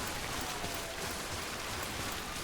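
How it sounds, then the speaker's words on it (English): Steady rain falls in Death Stranding, a broad, even hiss of drops on surfaces that carries on without pause from start to finish, with no talking. "now we just have to worry about the rain"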